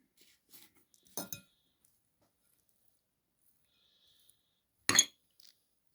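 Carrot salad is mixed in a bowl with a utensil, leaving just two short, sharp clinks separated by near silence, close and fairly quiet.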